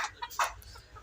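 Hill-breed roosters at a market give a few soft, brief clucks, faint and close together over a quiet background.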